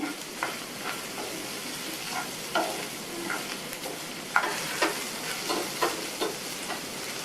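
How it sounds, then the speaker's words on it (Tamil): Capsicum sautés in oil in a pan with a continuous close sizzle, broken by regular clicks and scrapes of stirring throughout. "இந்த சேர்த்த குடமிளகா ஒரு 2 நிமிஷம் வதங்கட்டும்."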